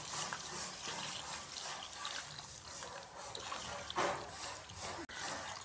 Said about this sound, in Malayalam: അപ്പോൾ നമുക്ക് ഇതിനകത്ത് വെള്ളം ഒഴിച്ച് നമുക്ക് വയ്ക്കാം.